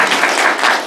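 Brief burst of dense audience applause at a lecture on carrying memory and value into the future, steady and full throughout with no voices over it.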